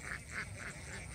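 Ducks quack in a rhythmic series of four or five nasal calls, faint and somewhat distant over a soft outdoor background near rice fields.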